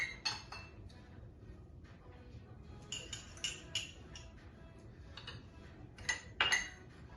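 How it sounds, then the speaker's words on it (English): Utensil clinking against a dish while honey, olive oil and seasoning are mixed into a salad dressing for salmon salad; faint, scattered taps and clinks with a few brighter metallic hits near the end, no talking. "I'm going to be mixing all of the ingredients that I have"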